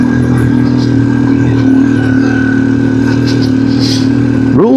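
Motorcycle climbing a hill in second gear on a ride near San Vicente, Palawan, its engine droning steadily and laboring close up throughout, with a rising rev at the very end.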